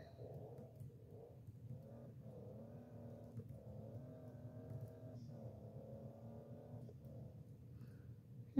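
A car engine in the video game City Rider revs in repeated rising and falling whines, each lasting about a second, moderately loud and steady.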